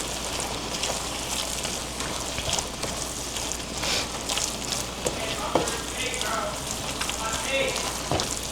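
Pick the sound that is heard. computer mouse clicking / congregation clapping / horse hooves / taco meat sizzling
taco meat sizzling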